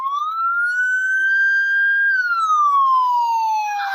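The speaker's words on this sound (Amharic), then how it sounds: "አምቡላንስ እየመጣ ነው።" Siren of an approaching ambulance: a single loud wail that sweeps upward, holds, then slides down, clear and close with nothing else audible.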